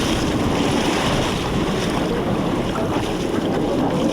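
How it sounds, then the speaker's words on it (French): Waves lapping around an electric tour boat out on Lac d'Orient at Mesnil-Saint-Père, a steady close wash of water mixed with gusting wind buffeting the microphone for the whole stretch, with no voices. "le moteur électrique permet aux touristes de profiter du clapotis des vagues"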